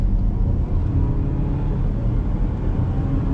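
A 2020 Chevy Equinox LT with a 2.0L turbo engine and 9-speed automatic pulls away, a steady, fairly loud low engine and road rumble heard from inside the car.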